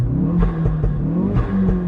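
A Ford Focus RS engine with a pop and bang map revs loudly and close by, with rising and falling pitch and sharp crackling pops between the revs.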